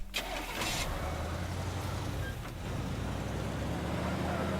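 A truck engine in the game Teardown cranks and catches, then settles into a steady, loud mid-pitched running rumble that continues without pause and without talk.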